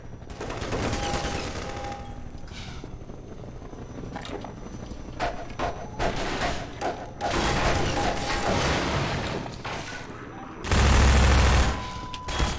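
Rapid gunfire from a weapon in Half-Life 2, dense bursts of shots with mechanical clatter rattling on for over ten seconds, ending with a louder, heavier burst near the end.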